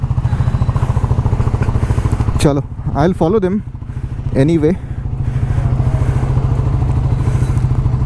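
A motorcycle idles steadily after a cold start, its low, even throbbing running the whole time while someone speaks briefly over it.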